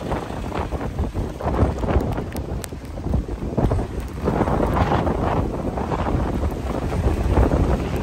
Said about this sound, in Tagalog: dahil sa lakas ng hangin nababaliktad yung payong natin